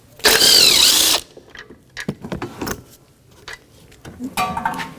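Power tool spinning off the last strut nut bolt inside the front fender well of a Volvo S60, a loud steady whine for about one second, followed by quieter clinks and handling noises.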